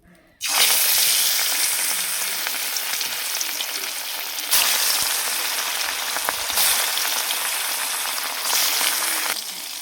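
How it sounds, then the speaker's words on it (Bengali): Rohu fish pieces dropped into hot mustard oil in a wok burst into a loud, steady sizzle after a brief quiet start, crackling continuously with small surges as the pieces settle, no voices. "তেলটা গরম হয়ে গেছে, এবার এর মধ্যে মাছগুলো ছেড়ে দেব।"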